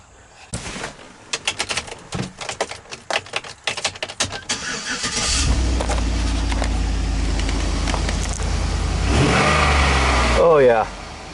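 A 2011 GMC Sierra with a newly fitted muffler: rapid clicking and rattling first, then the engine starts and settles into a loud, steady idle with a deep low rumble, rising in a brief rev near the end.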